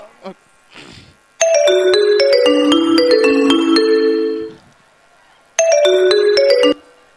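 A mobile phone ringtone plays a bright melodic chime pattern loudly, stops, then starts again after a pause, with brief speech before it.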